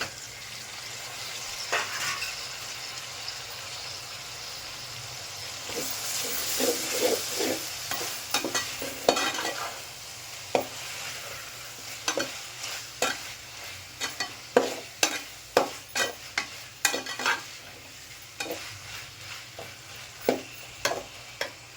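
Onions and tomatoes frying in oil for a broad bean mutton curry, a constant sizzle under repeated spatula stirs and scrapes against the pan that grow sharper and more frequent toward the end, close and without speech.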